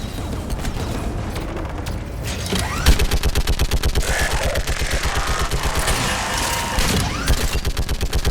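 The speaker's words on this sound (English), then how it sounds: "Who do you want on this gun, Shepard?" Anti-aircraft gun in the video game Mass Effect firing in long sustained bursts, loud rapid mechanical pounding that rolls on continuously with heavy booms and clanks layered underneath.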